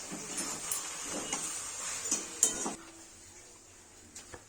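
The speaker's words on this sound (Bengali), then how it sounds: "এবার একসঙ্গে এটাকে নাড়াচাড়া করে নিচ্ছি" A spoon scrapes and clinks in a pan as vegetable roll filling with soy sauce is stirred. The taps and light scraping are soft, close and irregular, over a faint background hiss.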